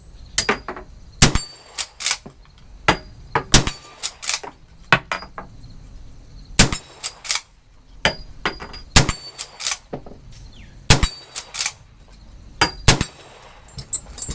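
Shots from a Winchester 1873 rifle strike steel plate targets, each sharp crack followed by a bright metallic ring, fired in irregular clusters with short pauses over about fourteen seconds, loud and close with no talk.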